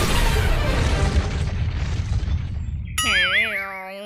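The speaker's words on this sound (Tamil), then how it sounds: "இது வெடிச்சிருமேடா." A cartoon explosion bursts as a loud, rumbling boom that rolls and fades over a few seconds, then gives way to a bright warbling ding.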